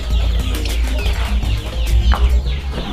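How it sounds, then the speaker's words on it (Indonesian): Hungry chickens cluck and squawk noisily together before feeding, a dense, loud, close chorus of overlapping calls with no voices. "Kayaknya udah mulai ribut semua itu ayam-ayamnya, udah kelaparan."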